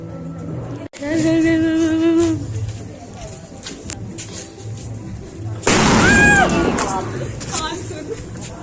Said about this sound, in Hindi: बहुत ही तेजी से बम फटने वाला है।